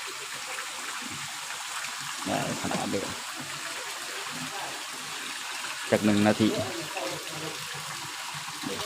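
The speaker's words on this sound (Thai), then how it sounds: "นี่น้ำตกเนาะเพิ่นสิเป็นแบบน้ำตกเนาะ" An artificial waterfall at a Thai temple, Wat Paknam, gives a continuous rush of water under a person talking, with a louder burst of voices midway.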